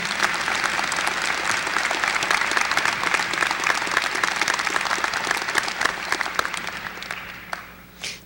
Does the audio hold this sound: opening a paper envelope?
no